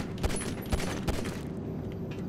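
Several separate gunshots crack out in Grand Theft Auto V, about three sharp reports spaced roughly evenly over a second, moderately loud against a steady background rumble.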